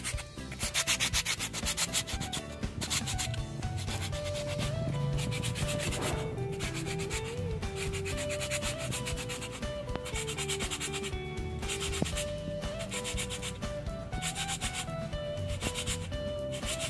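Hand sanding of a coconut shell being shaped into a bonsai pot, a steady close scratchy rubbing that runs continuously without pause, mixed under a loud music track with no speech.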